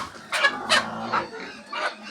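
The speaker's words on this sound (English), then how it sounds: "And here's a chicken." A chicken at a piggery farm in India clucks several times in short, separate bursts at moderate distance, with a quiet farmyard background between calls.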